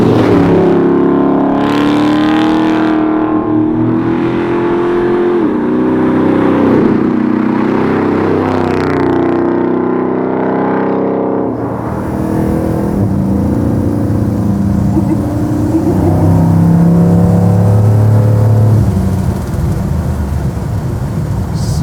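A custom sleeper 1964 Chevrolet Chevelle's engine revs loudly while driving, a deep rumble climbing and falling in pitch, then shifting to a rougher roar with tire and road noise.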